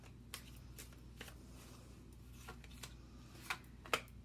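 Tarot cards are shuffled close by in a quiet room, giving soft riffling and a few sharper snaps and flicks near the end, with no talking.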